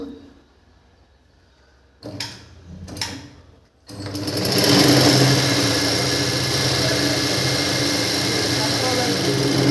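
An electric sewing machine with a faulty motor pedal stutters through a couple of short bursts, then runs away at full speed in a loud, continuous, uncontrolled whir that holds steady without slowing.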